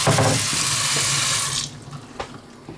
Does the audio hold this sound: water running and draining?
yes